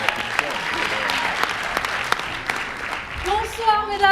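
An audience at a comedy show claps for a comedian coming on stage, steady crowd applause with individual sharp claps, followed by a voice speaking near the end.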